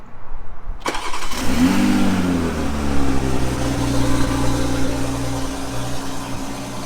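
A newly bought car's engine cranks and catches after a short silence, swells into a quick rev, then settles into a steady, throbbing idle close by with no talking.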